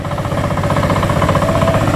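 A tractor engine runs on a rocky rural road in Catanduanes, Philippines, with a loud, close, steady chugging that pulses evenly throughout.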